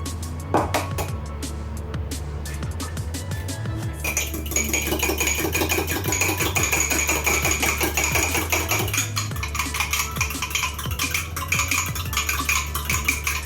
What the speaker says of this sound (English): So I've got 2 medium-sized eggs. I'm going to beat them up now.